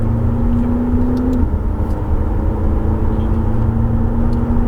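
A McLaren sports car's engine drones steadily on a race circuit, loud and close from inside the cabin, with a tone that rises and holds as the car pulls through a bend.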